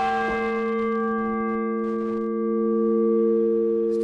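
Clock tower bell rings with a sustained, steady harmonic tone that hangs evenly through the clip, a single strike decaying slowly up close in an enclosed belfry.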